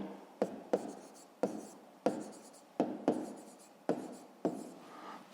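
Pen strokes of a hand writing out a maths answer on paper, in about eight distinct scratchy bursts spaced roughly evenly, each with a sharp onset and quick fade, close and alone without voices.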